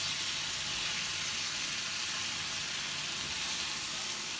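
Chicken fajita taco filling sautes in a pan, giving a steady, dense sizzle that holds an even level from start to finish with no talking.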